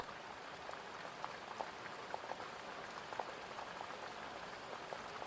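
Steady rain falls continuously as an even hiss, with scattered distinct droplet taps pattering throughout, close and unbroken, with no voices.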